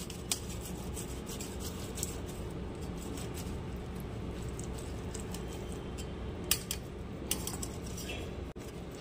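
Roasted tomatoes being grated by hand, a quiet continuous rasping scrape with a few sharp clicks and knocks from utensils.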